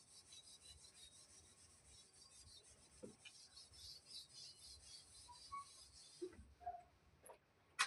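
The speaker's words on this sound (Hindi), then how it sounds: "मिटा रहे हैं इसको।" Faint, steady rubbing strokes of an eraser wiping across a classroom board, with a few soft taps near the end.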